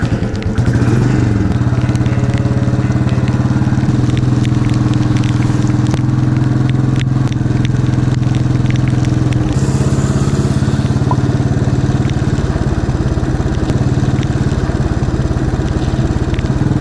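A KTM motorcycle engine drones loud and continuous while the bike is ridden, with steady rumbling and wind noise throughout and a slight change in tone partway through.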